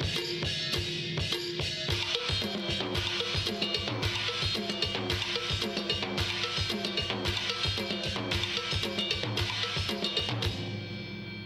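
Right- and left-hand multi-percussion parts played together on a kit of blocks, timbales, snare and drums: a dense, driving pattern of rapid hits and metallic accents that keeps going steadily for over ten seconds, close and without talk.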